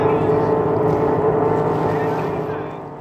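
Jet boats racing in a heat at a regatta give a loud, steady engine roar close by that fades slightly toward the end, with wind buffeting the microphone.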